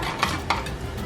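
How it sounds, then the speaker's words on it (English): Eggs stirred in a skillet, a continuous soft sizzle with two quick utensil scrapes close by, no voices. "then you just stir it around until it's nice and swirly"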